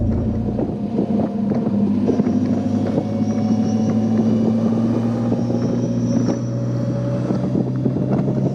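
A 1929 Blower Bentley drives at Le Mans, its engine a deep continuous rumble with a steady droning tone, heard from inside with wind buffeting the microphone, loud and unbroken throughout.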